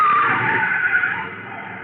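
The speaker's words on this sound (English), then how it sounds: "that car was trying to run us down" A car skids hard on a road as it tries to run people down, a loud sustained tire screech that holds steady and slowly fades over almost two seconds, with no talking.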